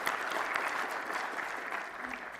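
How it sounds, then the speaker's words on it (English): Brief applause at a board of directors meeting, a fairly faint, even patter of clapping from a modest group across the whole short stretch. "let's give him applause"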